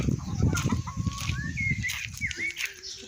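English Red chickens cluck and squawk close by, with a rising, drawn-out call and some rustling or wing flaps underneath.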